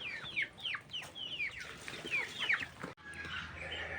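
Several chickens cluck and chirp close by in short, falling calls, a busy overlapping chatter with a brief break near the end.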